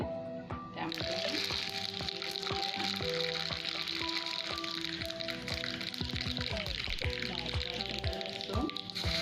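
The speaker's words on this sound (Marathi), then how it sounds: "आपण आता याची फोडणी टाकूया. एका पॉटमध्ये तेल गरम करून घेतलेलं आहे." Hot oil crackles steadily in a pot as a tempering for home-style idli sambar begins, a loud continuous hiss with music playing underneath throughout.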